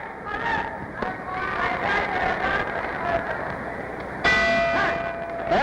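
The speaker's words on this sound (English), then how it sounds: "There's the bell ending round two" A bell clangs at ringside to end round two of the 1960 Emile Griffith vs Benny Paret boxing match. A bright metallic strike cuts in near the end over steady crowd noise, with an announcer talking throughout.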